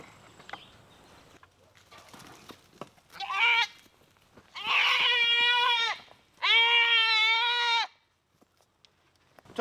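A goat being roped lets out three loud, wavering bleats that grow longer, with quiet scuffling and faint rustling in the gaps between calls.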